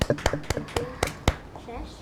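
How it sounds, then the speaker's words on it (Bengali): A few children clap for a classmate in a classroom, a scattered handful of separate claps, then quieter room sound. "আমরা সবাই রাবাবের জন্য একটা করতালি দেই।"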